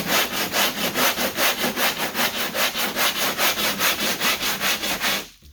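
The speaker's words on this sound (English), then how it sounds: "I'm gonna start off with a hand block with 36 grit and go over it" Hand block with 36-grit sandpaper scraping across Bondo body filler on a car body line, in steady, even back-and-forth strokes, close and fairly loud with no talking.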